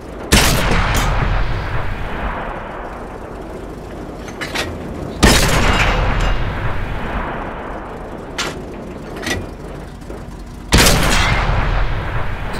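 Three heavy tank cannon shots boom in World of Tanks, each a sharp loud blast with a long rumbling decay, spaced several seconds apart over steady engine and battlefield noise.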